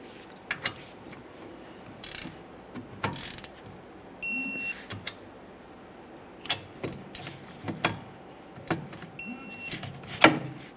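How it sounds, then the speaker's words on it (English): A torque wrench tightening rear brake caliper bolts on a 2013-2020 Ford Fusion, with sparse metallic ratchet clicks and clunks spread across the stretch, plus a few short high tones, against a quiet garage background. "Torque those to 21 foot-pounds"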